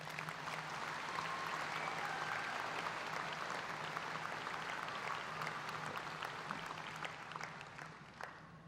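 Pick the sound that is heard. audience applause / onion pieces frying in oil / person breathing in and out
audience applause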